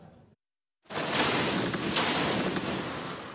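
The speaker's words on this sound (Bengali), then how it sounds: "মুহুর্মুহু গুলির শব্দ আর গোলা বিস্ফোরণের কালো ধোঁয়ায়" Sustained dense gunfire with shelling along the India-Pakistan Line of Control in Kashmir, a loud continuous roar of shots that bursts in after a brief silence and keeps going with no voices.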